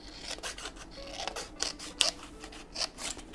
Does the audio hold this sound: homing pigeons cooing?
no